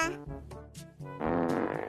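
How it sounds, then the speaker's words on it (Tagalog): A fart sound effect in a classroom: a short low rumble followed by a louder, sustained buzzy blast, with brief voice-like sounds before it. "May umutot."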